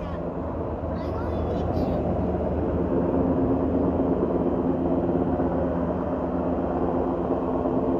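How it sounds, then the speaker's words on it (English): A firefighting helicopter drones steadily overhead at a wildfire in North Ogden, Utah, with a dense, rumbling rotor and engine roar, moderately loud, while a voice speaks briefly beneath it. "Look at the helicopter."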